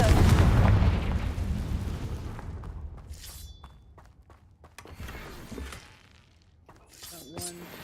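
A Confringo blasting spell explodes in a video game: a loud burst at the start that fades out, followed by scattered sharp cracks and thuds from the game, with a voice speaking in the clip.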